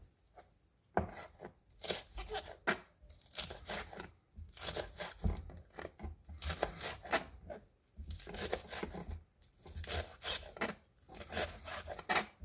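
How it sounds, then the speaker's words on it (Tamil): A knife cuts washed spring onions on a board, giving close, repeated rubbing, rasping chops in quick bursts separated by short pauses, with no talking. "இப்போ நாம் கொஞ்சமாக ஸ்ப்ரிங் ஆனியன் கட் பண்ணி வச்சுக்கலாம்."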